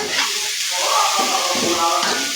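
Chopped water spinach (kolmi shak) hitting a hot pan in a home kitchen, a loud continuous sizzle and crackle of frying that holds steady for the whole moment with no talking.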